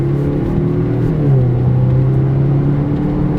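A small Toyota with a wonky front end accelerates on a track, its engine drone rising steadily in pitch and loudness, close and continuous, with no talk over it.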